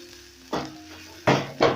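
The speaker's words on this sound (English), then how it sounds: "Then I'm going to cook this till the garlic is fragrant." Garlic frying in a pan for a gizzard dish, a low sizzle broken by three louder hissing bursts as it is stirred, close and clear with no talking.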